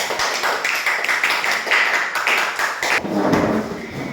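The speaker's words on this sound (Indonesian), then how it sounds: "tepuk tangan buat kelompok 1" Group of schoolchildren clapping in a primary classroom after a group presentation, a dense steady patter of small hands that thins briefly near the end before picking back up.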